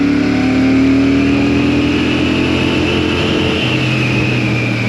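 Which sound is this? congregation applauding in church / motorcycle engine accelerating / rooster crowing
motorcycle engine accelerating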